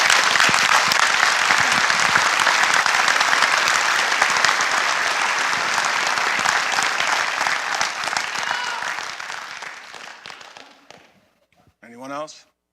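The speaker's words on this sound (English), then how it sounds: "join me in giving Mark a big round of applause" Mourners at a memorial service give a long, loud round of applause that holds steady for several seconds, then thins and fades out, followed by a short burst of speech.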